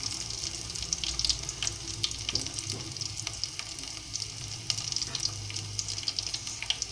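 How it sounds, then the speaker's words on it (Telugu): Crushed garlic and dried red chillies fry in a pan with a continuous close sizzle and crackle, stirred now and then with soft scrapes. "ఇవి కొంచెం వేగుతూ ఉంటాయండి."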